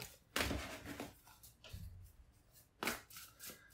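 Tarot cards shuffled by hand during a reading, two quick papery riffling bursts with a softer rustle between them, close and fairly quiet with no talking.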